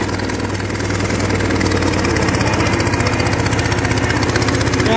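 A Fordson Major E27N tractor engine runs at a steady, throbbing chug while driving in reverse, loud and close with an even pulsing rhythm throughout.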